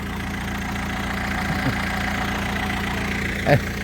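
A Kubota EF453T 45-horsepower tractor diesel engine idles steadily with a low, even rumble and a couple of faint knocks, close and constant throughout.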